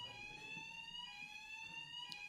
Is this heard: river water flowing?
no